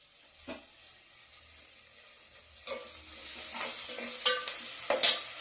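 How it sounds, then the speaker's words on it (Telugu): Curry leaves dropped into hot oil for upma, with a low sizzle that builds into louder crackling, plus a few sharp stirring scrapes near the end. The sound is close and there is no talking. "ఆ గుడ్డతో కరివేపాకు కూడా వేస్తున్నాను"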